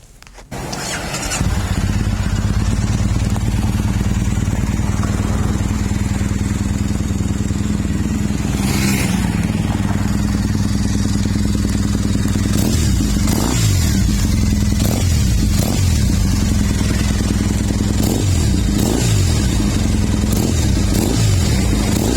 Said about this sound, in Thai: ฟังเสียงเครื่องยนต์คันนี้พร้อมๆกันเลยนะครับ